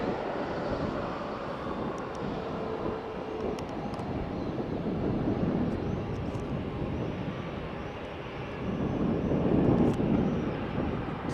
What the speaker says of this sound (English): Malta Air 737 Max 8200 inbound from Stansted.